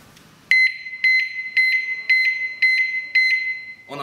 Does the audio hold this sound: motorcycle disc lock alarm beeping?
yes